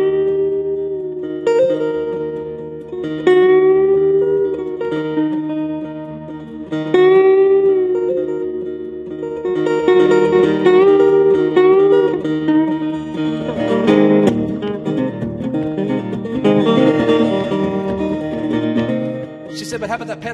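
A blues musician imitates a local freight train arriving from the east, voicing a wavering, whistle-like train call in long sustained tones that swell and fade, close and fairly loud, with no instrument evident.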